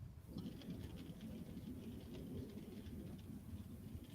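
Rain falls steadily and fairly quietly outdoors at night, a low, even patter that holds without a break for the whole stretch, with no voices over it.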